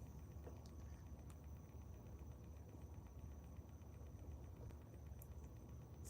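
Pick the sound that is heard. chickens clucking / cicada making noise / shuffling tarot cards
cicada making noise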